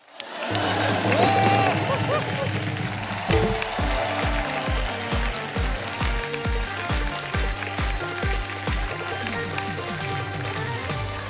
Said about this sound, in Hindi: जोर जोर से तालियां बजाएं।